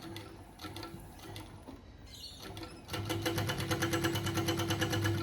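An industrial walking foot sewing machine stitches quilting weight fabric for a padded slip pocket. Soft handling sounds come first, then a fast, even mechanical rhythm runs close and steady to the end.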